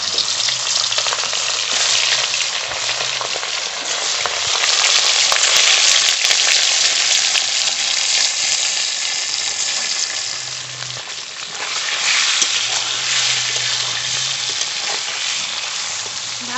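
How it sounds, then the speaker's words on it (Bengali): Fish rubbed with salt and turmeric frying in hot mustard oil in a kadai, a loud, dense, continuous sizzle that swells and eases slightly, heard up close with no voices. "মাছ ভাজা হতে থাকুক"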